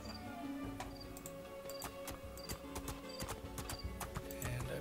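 Horse hooves clip-clop at a steady trotting rhythm in the PC video game Two Worlds 2, close and clear over a bed of ambient game sound.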